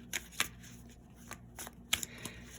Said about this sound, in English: the first thing we're going to do is pick 2 cards from this deck